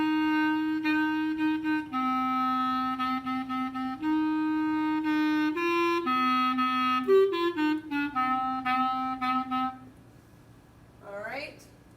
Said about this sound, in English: So then the bass line, bass, clarinet, trombone, baritone, tuba.